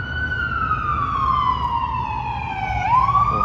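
An ambulance siren in Seattle sweeps steadily downward in pitch, then jumps back up near the end, loud over a low rumble of traffic.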